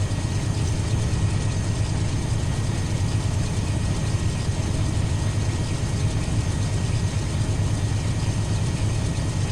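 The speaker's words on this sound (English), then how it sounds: "babysit the engine, let it do its thing" A heavy coal-train locomotive runs in Run 8 Train Simulator, giving a steady, loud, low diesel rumble that stays unbroken throughout with no voices.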